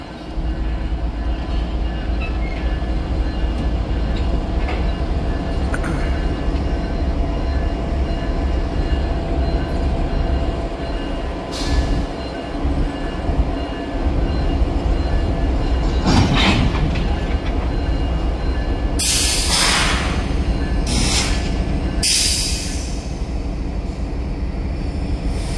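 A CSX freight train with several locomotives rolls past at close range with a continuous heavy rumble and rhythmic wheel clatter, and bursts of sharp metallic squeal near the end.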